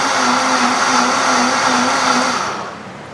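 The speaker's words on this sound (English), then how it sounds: "we just want to make sure all of those seeds are blended up really nicely in there" A blender whirs loudly and steadily, grinding pepper seeds for venison chili, a close, even motor drone that winds down in the final half second.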